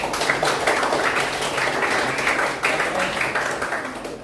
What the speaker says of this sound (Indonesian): boleh tepuk tangan dulu untuk Ibu